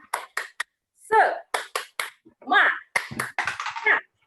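A woman leads a rhythmic 'tepuk semangat' spirit-clap routine in a classroom, with sharp, spaced hand claps in a set pattern broken by short bursts of her voice chanting along.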